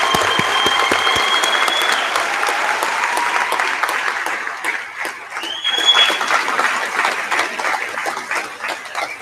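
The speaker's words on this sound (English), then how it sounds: "I think a big round of applause for all our graduates is warranted." Loud, sustained applause from a university convocation audience cheering graduates fills the hall, dense continuous clapping that rises and falls slightly without breaks.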